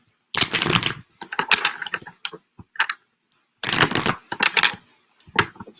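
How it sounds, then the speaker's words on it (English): Crisp, papery riffling of a tarot card deck being shuffled in bursts, with short clicks and taps between them, close and fairly loud. "We're done the shuffle soon."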